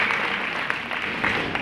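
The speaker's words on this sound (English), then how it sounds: "Let's clap hands for KZN." Steady, dense clapping from a crowd, fairly loud and continuous throughout, with no pauses.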